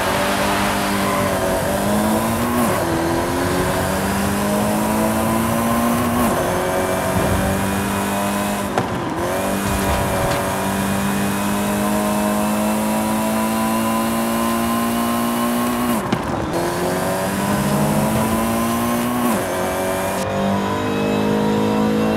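A 1967 Ford Racing Escort Mark 1 in Forza Horizon 5 revs loudly and continuously, its engine note climbing through repeated gear shifts with brief dips between them, without a break and with no talking.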